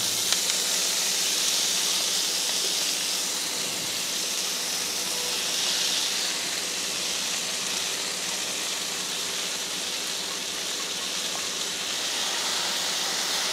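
Washed, chopped fenugreek leaves hitting a hot pan produce a loud, even hiss of sizzling steam that holds constant throughout.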